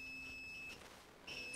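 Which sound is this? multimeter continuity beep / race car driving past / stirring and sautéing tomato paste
multimeter continuity beep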